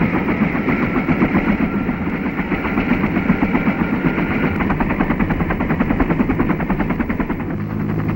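Loud, sustained machine gun fire from the Vietnam War, with Huey helicopter combat around it. The rapid, steady bursts repeat without pause for the whole stretch.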